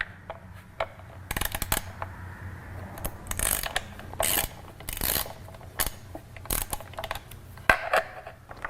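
Torx screws being backed out of the stock air cleaner on a 2005 Harley-Davidson Sportster, with close, quiet ratcheting clicks and sharp metallic ticks coming in short irregular bursts, no talking.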